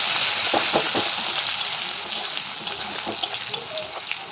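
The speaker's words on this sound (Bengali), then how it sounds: "কুচনো পেঁয়াজ ছিল সেটাকে আমি দিয়ে দিচ্ছি পেঁয়াজটাকে এবার লাল লাল করে ভেজে নেব" Chopped onions frying in hot oil with black cumin and bay leaf, a steady close hiss of bubbling sizzle running throughout with faint scraping and a voice murmuring now and then.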